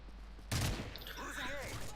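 Gunfire in Modern Warfare 3: a sudden loud burst of shots, followed by a noisy firefight with echoing reports and game sounds, no talking.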